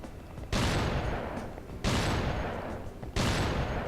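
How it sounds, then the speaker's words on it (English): Shotgun blasts in the video game Death Jr.: Root of Evil: three loud, booming shots spaced evenly over a few seconds, each trailing off into a short decaying rumble. "Using the shotgun is slightly riskier than using the twin pistols for this reason"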